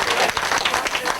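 Steady applause from a comedy-club audience at an improv comedy class event, dense clapping with a brief murmur of crowd voices, filling the room at an even loudness throughout.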